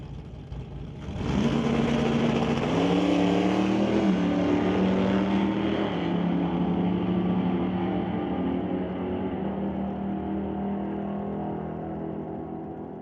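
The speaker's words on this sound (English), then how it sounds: "The 1968 Stone Cold Racing Dodge Dart will race against the 1967 Wheel Standing Barracuda." A 1968 Dodge Dart and a 1967 Barracuda launch in a drag race, engines roaring up sharply after a second and then holding a loud, steady drone that slowly fades as the cars pull away.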